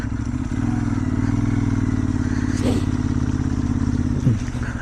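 A motorcycle rides off-road on slippery winter terrain between Quetta and Shaban, its engine humming steadily and close with brief clattering scrapes from the rough ground, no talking heard.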